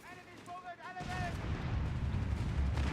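A grenade goes off in a World War II strategy game, a deep, booming blast that rolls into sustained low rumble after brief talk and tonal game sounds.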